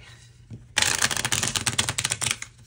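A deck of tarot cards is shuffled in a quick, crisp riffle, a dense burst of papery flutters and snaps that runs for about two seconds after a softer start, close and clear with no talking.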